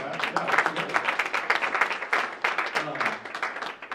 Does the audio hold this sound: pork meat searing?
no